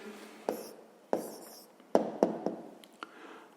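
Pen strokes and taps on paper while writing down a maths answer, a series of short scratchy marks and sharper ticks at an irregular pace, close and fairly quiet, with no talking.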